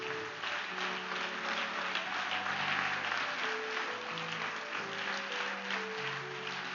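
A church congregation at a Baptist Thursday service applauds, a sustained wash of clapping heard at low level under soft held musical tones.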